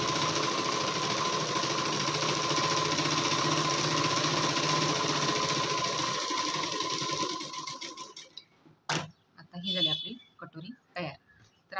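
A sewing machine runs a double line of stitching on a collared blouse, a close, loud, steady mechanical hum that stops after about eight seconds and gives way to someone talking.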